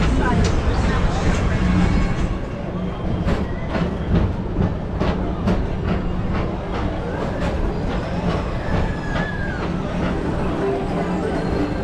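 The Tomorrowland Transit Authority PeopleMover, the TTA Blue Line circling Tomorrowland, rolls along its track with a steady rumble and repeated clicking, while voices talk over the ride.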